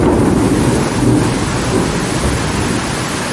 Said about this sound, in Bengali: আবার বিদ্যুৎ চমকাচ্ছে